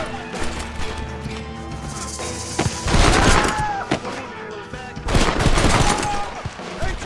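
Shotgun fire in Red Dead Redemption, heavy booming blasts in two loud clusters amid ongoing gunfight noise, with a voice talking in between.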